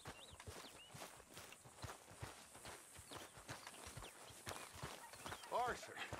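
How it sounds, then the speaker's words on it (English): A horse's hooves clop along at a steady walking pace in Red Dead Redemption 2, close and fairly quiet, with a short vocal sound near the end. "É o cavalo, né?"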